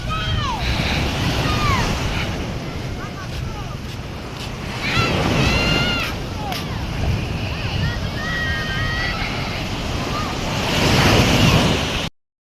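High sea waves surge and crash onto a shore at sunset, a loud continuous roar with gusty wind buffeting the microphone, while people talk over it and faint voices carry in the background.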